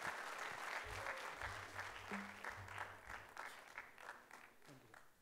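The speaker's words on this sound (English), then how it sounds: "Round of applause for Guruji." Audience applause during a corporate tax seminar, a steady wash of many hands clapping at moderate level that tapers slightly toward the end, with low hum and faint voices beneath.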